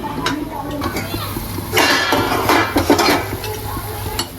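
Peanut fritters drop into a simmering curry, with a soft sizzle, a couple of spoon-and-pot clinks and stirring scrapes. A voice talks over the bubbling.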